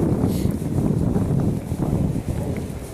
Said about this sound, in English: Trying to find a spot to sit down and do my recording, but it's so windy